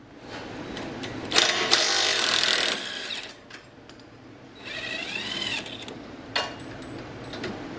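Bolts on an S550 Mustang suspension vertical link, 15 mm on top and 18 mm on the bottom, come off in two rattling, whirring tool bursts of about a second each, with quieter clanks and background hum between.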